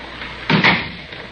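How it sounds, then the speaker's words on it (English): A single door closing as a sound effect in a 1953 old-time radio police drama, a short, fairly loud thump with a brief rattling tail, heard alone with no talk over it. "Close the door."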